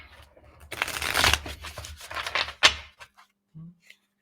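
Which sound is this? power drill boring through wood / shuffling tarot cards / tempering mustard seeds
shuffling tarot cards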